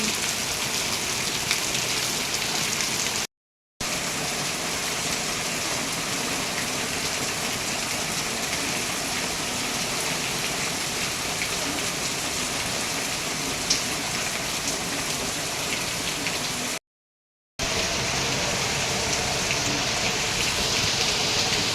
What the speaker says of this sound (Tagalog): Wala pa rin tigil ang ulan.